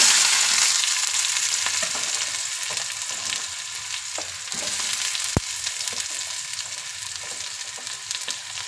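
Onion and curry leaves fry in a pan for a Kannada-style sundekai gojju, giving a steady, close sizzle with faint stirring clicks throughout and no talking.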